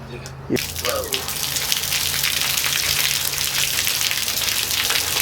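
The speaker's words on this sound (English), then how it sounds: "We've been running the hose here for about 2 minutes and we're still getting the brown gunk coming out" Water runs steadily from a hose, flushing rust and gunk out of a Puch Maxi moped gas tank being de-rusted, a continuous close gushing splash that starts abruptly after a brief quiet moment with a short voice.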